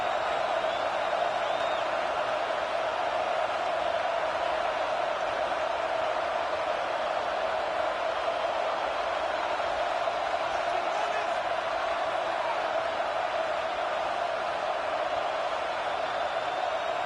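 A stadium crowd at an American football game during a third-down red zone play: a steady, distant roar of cheering and whooping that holds evenly throughout, with a voice audible over it.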